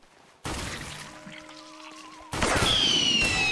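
A shotgun fires in a Roblox game, with two loud sudden blasts followed by sustained noisy rumble, layered with synthetic game tones and whistles, with no talk.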